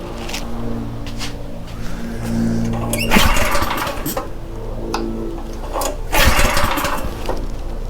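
A Troy-Bilt rototiller engine runs steadily out of gear with its tines spinning freely, a loud close mechanical drone with rattles and a few sharper clanks and surges.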